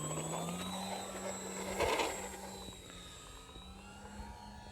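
A Dynam PT-17 RC model biplane flies overhead, its electric motor whining in a steady drone that swells as it passes near and then fades into the distance.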